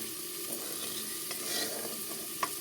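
Hot oil in a wok sizzles steadily with a faint crackle and a few light clinks of stirring, a short, even frying hiss with no talk.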